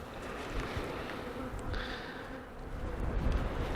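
A honeybee swarm hums and buzzes nearby as the bees fan, a dense, steady drone with individual bees zipping past close to the ear.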